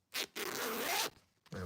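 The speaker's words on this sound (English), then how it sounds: "I've got this fucking zip stuck around me now." A clothing zip is pulled open in a quick close rasp lasting about a second, with a shorter zip burst before it and a brief rustle after.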